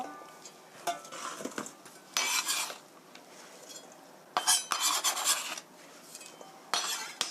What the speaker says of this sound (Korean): 자, 이렇게 썰어졌습니다. 오이 다섯 개예요.